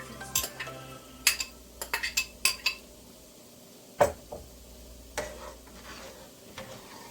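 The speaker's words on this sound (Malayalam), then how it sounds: "ഇനി എല്ലാം കൂടി ഒന്ന് ഇളക്കി തിളച്ച് കഴിഞ്ഞാൽ ഓഫ് ചെയ്യാം." A spoon stirs pineapple pudding mixture with china grass in a pot, making scattered clinks and scrapes against the metal, loudest early on, with a quiet simmer underneath and no talking.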